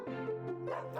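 A human voice imitates a dog barking with a drawn-out, close, clear bow-wow sound, as part of a narrated children's story.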